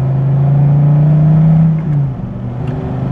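A Dodge Viper TA 2.0 engine drones at a steady deep pitch and then eases off, loud and close, with no one talking over it.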